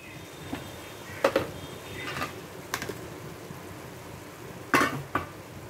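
Egg pepper masala simmers quietly in a pan on the stove, a low bubbling sizzle broken by a few sharp spoon-against-pan clinks and stirring scrapes.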